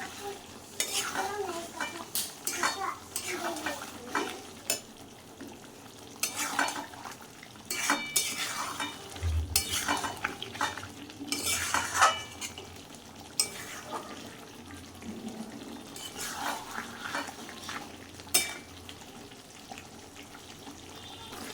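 Chicken kosha stirred and sautéed in a pan, with a spoon scraping and clinking against the metal over a steady low sizzle, continuous and close.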